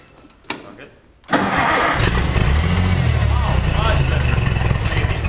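A small engine with freshly cleaned spark plugs and a doubtful carburetor gives a short sputter, then catches and runs loud and steady at close range.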